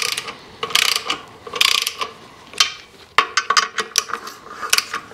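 Ratchet clicking in quick bursts while tightening a clutch pressure plate onto the flywheel of a small block engine being mated to a 4-speed: close, sharp pawl chatter in several short runs with brief pauses, no talk.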